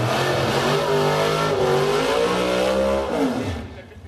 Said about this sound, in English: What a burnout